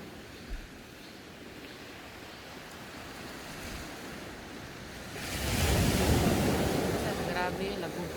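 Sea waves at a beach in Bohol rumble and roar with a steady wash of noise, swelling into a louder, closer crash in the final seconds, with wind buffeting the microphone.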